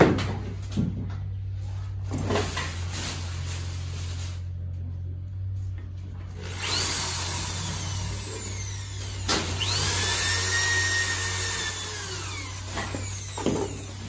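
Power drill driving a 5.0 by 80 mm screw, a whining motor that rises and falls in pitch over several seconds amid steady background hum, with faint knocks and handling noises around it.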